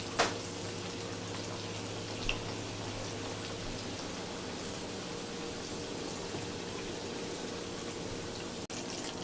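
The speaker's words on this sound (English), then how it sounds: "So we put in 3. And we're going to let those fry." Three egg rolls frying in hot oil give a steady, even sizzle that runs unbroken throughout at moderate volume, with a faint tap near the start and no voices.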